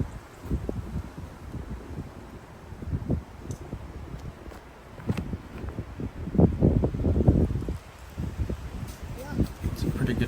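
Wind gusts outdoors on a disc golf course at a tournament round, rumbling and buffeting the microphone in uneven surges while people talk over it.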